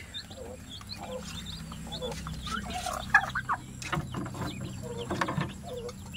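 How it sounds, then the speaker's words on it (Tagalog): Several loud turkey gobbles burst out in rapid, warbling runs, with other fowl calling nearby and faint background murmur. "Ay, pabo to, pabo."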